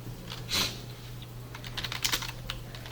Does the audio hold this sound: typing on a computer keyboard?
yes